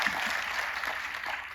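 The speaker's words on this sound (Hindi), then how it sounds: "प्रियंका मैम और टीसी सर के लिए जोरदार तालियां हो जाए।" Faint, even clapping from an audience at an RCM business training event fills a short stretch, a soft continuous patter with no clear voices.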